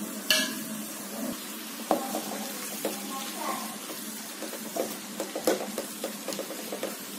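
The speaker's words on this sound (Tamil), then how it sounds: "மசாலாலாம் பிடிக்கிற மாதிரி பரட்டிட்டு இப்போ மசாலா பிடிச்சி நல்லா நமக்கு வேந்து வரட்டும்." A spoon stirs masala spices, pepper powder and salt in a sizzling pan for semiya chicken biryani: soft scraping and clinks over a steady frying hiss, close by.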